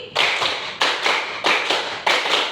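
A primary school class plays a counting clap game, pupils clapping together in sharp unison bursts, four grouped claps spaced evenly with short gaps between them, fairly close and clear.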